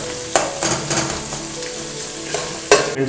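Onions frying in hot oil toward golden brown for biryani, a strong continuous sizzle broken by several sharp stirring scrapes and clanks, close and loud.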